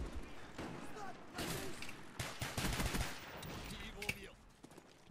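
Pistol shots ring out in a split-screen multiplayer shooter video game, a rapid string of sharp cracks amid busy, loud in-game action and other battle noise.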